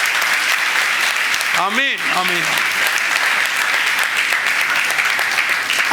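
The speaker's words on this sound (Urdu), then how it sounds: "ان کے لیے بھی تالی بجاؤ" A church congregation claps in a dense, steady burst of applause that fills the whole stretch, while a voice briefly calls out over it partway through.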